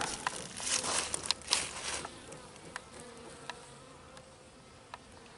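Honeybees buzzing at a hive entrance, carrying in pollen, make a soft, close, wavering drone with louder fly-by swells early on, then fade to a quiet hum with scattered faint clicks.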